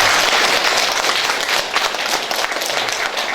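A crowd gathered for a union chairman applauds, a dense, even wash of clapping that stays loud and close for the whole few seconds, with no voice over it.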